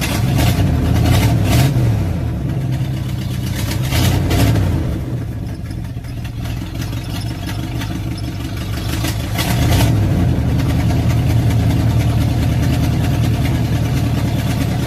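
A cold carbureted engine with a broken choke runs rough near the mic, a loud, uneven idle that swells and dips twice as it revs slightly and settles.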